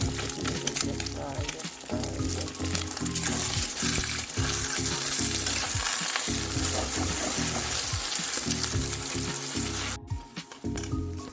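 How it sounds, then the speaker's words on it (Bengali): Eggs sizzle loudly in a hot pan for egg chilli while a spatula scrambles them in steady, repeated scrapes and knocks, with no pauses. "তো দেখো আমি কিন্তু ডিমগুলো ঝুড়ো বানিয়ে নিচ্ছি"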